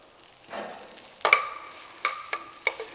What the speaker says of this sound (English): we're just lightly wilting the spinach